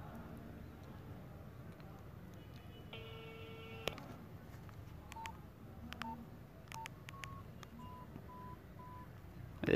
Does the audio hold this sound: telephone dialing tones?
yes